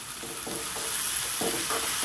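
Okra stir-fries in a pan with a constant hissing sizzle, punctuated by several soft rhythmic scrapes as the pieces are turned, close and without talk.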